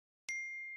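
A single bright phone notification ding rings out clearly and sustains briefly in an otherwise quiet moment, close and isolated.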